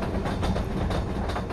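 Train running on rails heard from inside the non-powered end of a push-pull train fitted with AFB and LZB, a steady loud rolling rumble with faint rhythmic clatter throughout.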